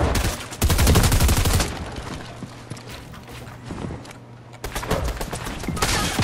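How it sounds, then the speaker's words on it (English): Gunfire in a Fortnite match: rapid bursts of close shots with mechanical clatter, loud at the start and again near the end, with a quieter gap between. "His teammates shot me"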